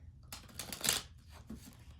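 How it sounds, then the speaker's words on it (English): A deck of tarot cards being shuffled close by, a soft riffling burst that swells in the middle and then tapers off into a few quieter shuffles. "I'm just shuffling the cards and then we'll pull a couple."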